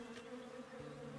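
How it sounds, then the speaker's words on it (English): A short, continuous stretch of bee buzzing from the survival game Above Snakes, an even drone that holds steady throughout with nothing else on top. "Hey, bees!"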